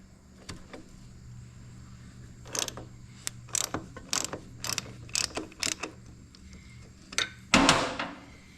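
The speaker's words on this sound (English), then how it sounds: "Last thing we're going to do is unscrew the oil filter" Oil filter being unscrewed on a Harley-Davidson Softail Evo motorcycle, heard as a series of close metallic ratcheting clicks and scrapes in uneven clusters, ending in a louder grinding rasp, with no talking.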